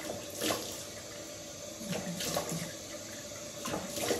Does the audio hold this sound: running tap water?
yes